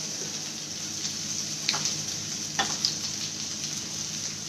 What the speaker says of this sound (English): we'll heat the oil in the pan. Saute some onions here.